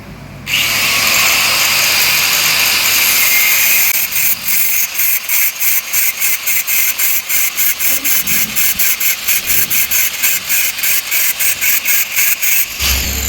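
A power cutting tool slices open the metal battery box of an electric scooter, a loud, steady high whine for several seconds, then rapid rhythmic pulsing bursts as the blade bites, stopping abruptly near the end.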